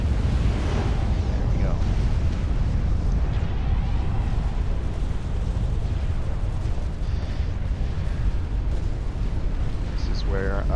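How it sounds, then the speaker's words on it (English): Explosions and battle effects from the real-time strategy game Supreme Commander: Forged Alliance form a dense, continuous rumble of booms and crackles with no clear break. "That's why this will explode any second now."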